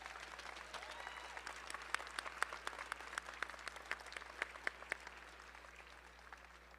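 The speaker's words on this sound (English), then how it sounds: "Let's give them a round of applause." Graduation audience applauds adult education staff with distant, faint clapping in a large hall, scattered sharp claps rising over a soft steady patter.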